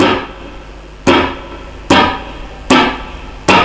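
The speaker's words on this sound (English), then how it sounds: "Okay, so that's the chop, that's how it works." Sharp, percussive muted guitar chops strike about once a second, each a dry scratchy hit over a faint ringing background.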